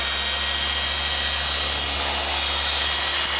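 A Milwaukee polisher works the paint of a BMW E36 M3, a steady high-pitched motor whine with a constant hum, running continuously and close up with no talk.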